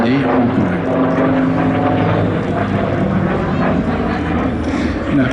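A carrier-based propeller aircraft from Dijon flies at the Melun-Villaroche airshow, its engine a steady loud drone across the whole stretch with a voice talking over it.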